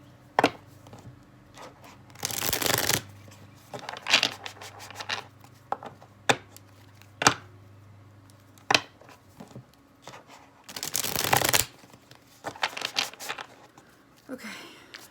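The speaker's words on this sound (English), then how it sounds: "Get a little taller to shuffle these." Cards are shuffled in several quick riffling bursts, with taps and handling noises in between, close and fairly quiet.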